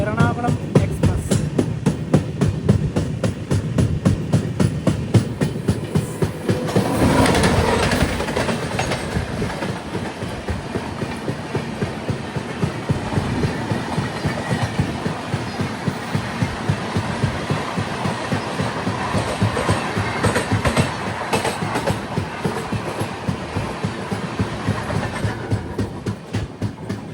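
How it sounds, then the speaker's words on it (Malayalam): The Okha–Ernakulam Express passes on the Konkan Railway near the Kulasekhara tunnel: loud, close, rhythmic clickety-clack of wheels over rail joints, continuing steadily for the whole stretch. "ഒരു ട്രെയിൻ വരുന്നത് കാണാം, ഓഖ എറണാകുളം എക്സ്പ്രസ്."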